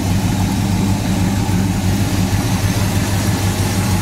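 A numbers-matching 1968 Pontiac GTO with its original WT code 400 V8 and 4-speed Muncie transmission idles steadily, a dense low rumble holding even and loud throughout.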